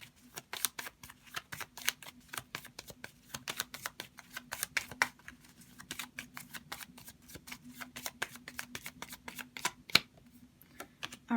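Tarot cards being shuffled and drawn, a quick series of soft crisp slaps and riffles repeating irregularly, close and fairly quiet over a faint steady hum.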